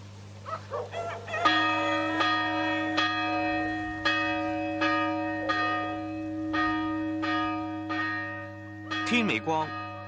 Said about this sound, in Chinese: 天未光，教堂就传嚟一阵阵嘅钟声。